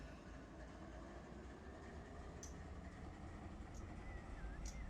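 Freight train rolling ahead through Bakersfield Yard in the Run 8 Train Sim game: a steady, continuous rumble of wheels and cars, with a few faint high squeals over it.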